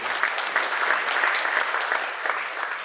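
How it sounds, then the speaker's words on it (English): Audience applause at an opening event, a dense, steady wash of many hands clapping that fills the clip alone at an even level for about three seconds. "Give a round of applause for everyone."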